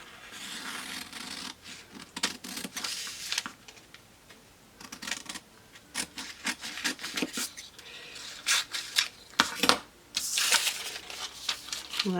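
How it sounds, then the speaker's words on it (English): Scissors cut through paper as an adjusted pinafore dress pattern piece is trimmed out, giving repeated close snipping and rustling strokes in uneven bursts, with no talk. "So I'm just going to cut that out."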